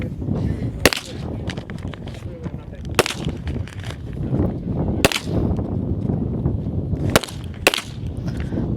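Pistol gunshots ring out at the 2024 North Carolina Regionals Men's Elite shooting competition: five sharp, loud cracks spaced a couple of seconds apart, two close together near the end, under continuous commentary talk.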